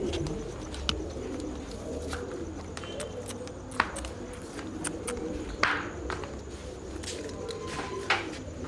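Low, soft cooing of pigeons rumbles steadily throughout, with scattered faint clicks and light taps over a quiet background.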